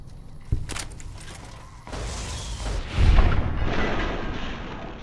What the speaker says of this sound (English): I forgot I gave him the Tesla cannon